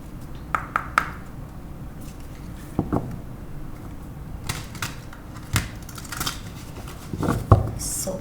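Tarot cards being shuffled and laid out make soft, scattered clicks and light taps close by, rather quiet, with a card-riffling flurry near the end.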